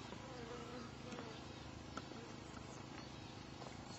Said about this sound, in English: Must be where the bees are getting the honey from.